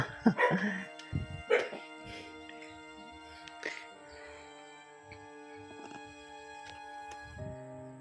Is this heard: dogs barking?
yes